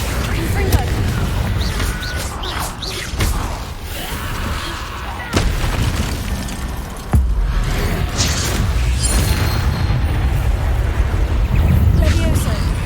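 Blasting spell explosions in Hogwarts Legacy, a fantasy video game, burst loudly in sharp booms amid continuous rumbling battle noise and spell effects, with a voice casting spells between the blasts.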